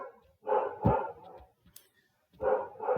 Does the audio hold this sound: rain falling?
no